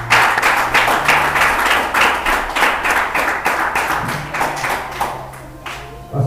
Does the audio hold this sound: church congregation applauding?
yes